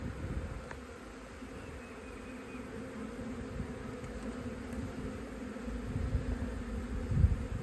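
Caucasian honeybees buzz steadily in a cell builder hive, a dense low hum that stays close and even throughout, swelling slightly near the end.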